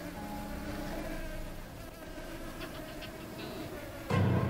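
Flies buzz in the video game Supraland, a faint steady drone with a game background beneath it and a louder burst of sound near the end.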